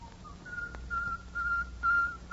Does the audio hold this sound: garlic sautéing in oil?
no